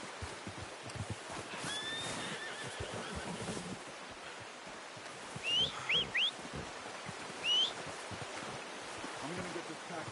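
A horse in the video game Red Dead Redemption 2 whinnies and snorts a few times amid quiet background murmur and shuffling, with faint hoof sounds.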